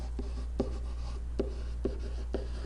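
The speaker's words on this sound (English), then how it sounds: "Write the word superimpose." Pen writing a word by hand, a short series of about five quick scratchy strokes spaced across a couple of seconds over a steady low hum.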